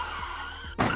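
A short, sharp tire squeal sound effect of a skidding car, loud and close, lasting about a second with no voices.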